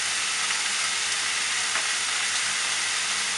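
Tomato puree hitting a hot pan of frying mutton curry with Kashmiri chili powder, a loud, dense, continuous hiss and sizzle, near and steady throughout, with no voices.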